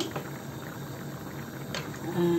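Biryani liquid boiling steadily in a pot, a soft continuous bubbling and hiss heard close up, with a brief clatter near the end and a hint of voice over the simmer.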